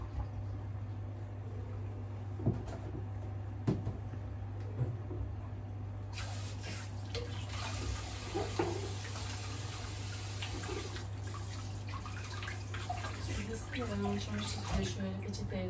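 In a kitchen, tap water runs into the sink and fills a jug with a steady hissing spray that grows louder and fuller partway through, accompanied by clinks and a woman's occasional speech.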